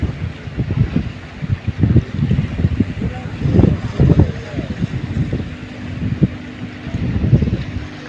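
Strong wind buffets the microphone beside a fishing pond, loud gusting rumbles that rise and fall, with people talking underneath.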